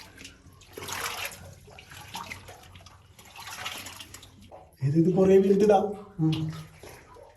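Water gushes steadily from a pipe fed by a surangam, a hand-dug tunnel water source in Kasaragod, a broad continuous rush heard close, with someone talking over it.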